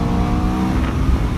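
Aprilia RSV4 RF 1000 superbike from 2017 revving hard under acceleration, a loud, dense engine roar that stays steady and close for the whole stretch, with no talking over it.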